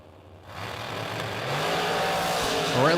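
Drag racing cars, including a Miller chassis dragster, launch down the racetrack at a drag racing event with a loud, rising engine roar that builds steadily and stays close and dominant.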